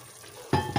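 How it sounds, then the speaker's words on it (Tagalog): Adobo stirred in a cooking pot, quiet at first, then two sudden scraping, sizzling clinks of a utensil against the pot in quick succession, close and fairly loud. "Haluin natin."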